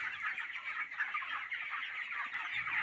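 A dense chorus of 20-day-old poultry chickens on a farm, kept on sand, peeps and chirps continuously, many birds at once filling the space with high, busy cheeping.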